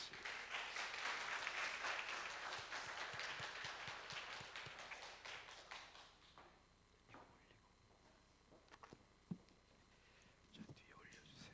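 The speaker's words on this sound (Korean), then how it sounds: "박수로 환영하시겠습니다." Applause from a church congregation welcoming a speaker, fairly full at first and then thinning out into scattered claps and small noises over quiet background.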